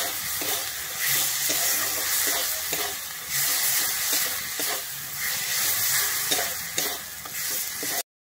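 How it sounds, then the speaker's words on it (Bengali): A ground paste of cumin, coriander and dried chili fries in hot oil, making a continuous loud sizzle and hiss broken by repeated stirring scrapes, close up and with no voices. "আমি বেটে রাখা মশলাটা কিন্তু দিয়ে ভালোভাবে ভেজে নেব।"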